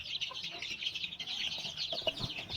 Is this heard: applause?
no